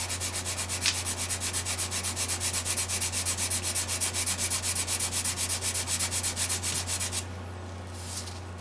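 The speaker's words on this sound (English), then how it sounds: "So a little scrape, a little sandy with the 120." Rapid rhythmic rubbing of 120-grit sandpaper over the finish of a carbon fiber guitar, close and steady strokes for about seven seconds before stopping, with a low hum underneath.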